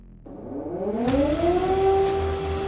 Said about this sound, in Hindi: युद्ध के गूंजते सायरन से सनसनी फैल गई है।